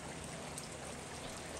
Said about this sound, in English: listen to the drops drumming on the deck